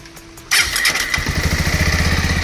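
A Bajaj Avenger Street 160 motorcycle fires up on its self-starter with a short crank, then settles into a steady, close, loud idle with an even thumping rhythm. Nobody speaks.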